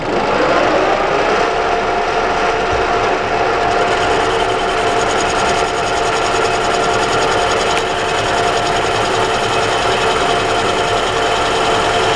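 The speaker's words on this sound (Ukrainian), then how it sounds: "взяли в патрон нашу заготовочку і торцуємо" A lathe faces the end of a pulley blank for a round belt clamped in the chuck, giving a steady, even machining whine and scraping drone that carries on without pause.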